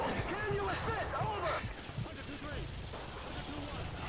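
Gunfire from a player shooting enemies in Modern Warfare 2, repeated shots under steady game ambience and a talking voice with wavering tonal sounds.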